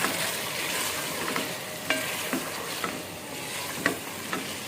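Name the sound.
potatoes frying with ginger and garlic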